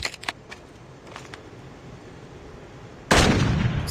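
SPR 208 marksman rifle fired in a video game: a few light clicks, then one loud close report that rings out and tails off at the end, with no voices.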